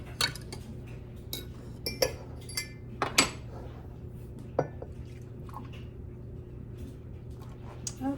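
Homemade buttermilk is stirred into pumpkin scone dough in a bowl, giving close, irregular clinks of utensil against the bowl and soft squishy scrapes, with no talk.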